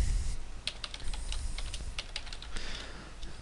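Rapid keystrokes on a computer keyboard as an email address is typed into Outlook's forwarding settings, the clacks close and steady with a few brief pauses and no talking.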